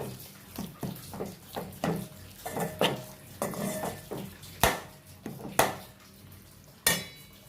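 A metal spoon scrapes and clanks against a pan in a steady stirring rhythm while sautéing for a fish curry, with a faint sizzle underneath and occasional sharper knocks.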